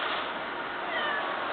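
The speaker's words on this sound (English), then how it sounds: "Meow." A pet cat named Kit Kat, sick from eating tinsel, lets out a short meow, close and clear over a steady background hiss, with no talking.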